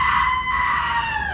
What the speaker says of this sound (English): How would you scream?